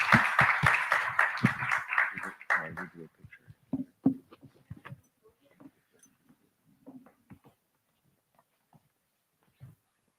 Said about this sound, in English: Let's have a round of applause for this team.